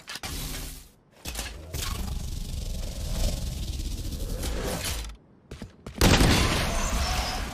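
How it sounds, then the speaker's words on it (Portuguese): A Stinger submachine gun with the Prelude to Chaos skin fires in Valorant. Loud, sustained bursts of rapid fire are broken by brief silent pauses, with a stylised roaring, whooshing character and a sharp final volley. No one speaks. "E o áudio da Stinger também tá bem legal, viu?"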